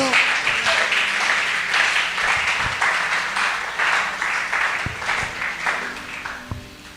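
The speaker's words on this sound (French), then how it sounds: "est-ce que tu peux acclamer très fort pour le Seigneur?" Loud applause and cheering from a congregation at a church service, broad dense clapping that swells and then gradually tapers, with a few scattered thumps near the end.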